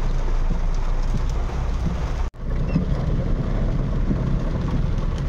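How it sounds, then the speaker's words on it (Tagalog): Steady heavy rain drumming on a surface, a dense continuous hiss with a low engine rumble underneath and a brief dropout midway. "Ulan pa rin. Malakas."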